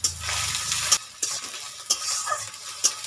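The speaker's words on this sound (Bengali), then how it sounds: "এখন আমি তেলের মধ্যে 2টো পেঁয়াজ কাটা ছিল, ছোটো ছোটো করে কুচি করে কাটা আছে," Finely chopped onions frying in hot oil, a crackling sizzle with several sharp stirring scrapes and clicks at irregular intervals.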